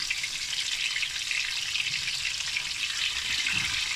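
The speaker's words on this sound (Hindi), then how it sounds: "ये टिंडे जो है हम इनको फ्राई करते हैं लो फ्लेम पे।" Stuffed tinda (round gourd) frying in oil over a low flame gives a steady, even sizzle that holds unbroken throughout, close by and with no one talking.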